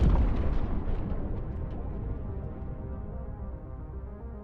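A deep, rumbling explosion opens with a heavy burst and rolls away into a long, fading roar that slowly dies out, loud and alone.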